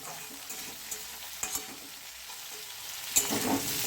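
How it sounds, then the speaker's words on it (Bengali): Potatoes and drumstick (moringa) pods sizzle steadily as they fry in a pan while a utensil scrapes and stirs in occasional clanks, close up and without speech. "আবার নেড়ে চেড়ে দিচ্ছি"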